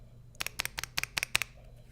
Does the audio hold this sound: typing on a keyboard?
yes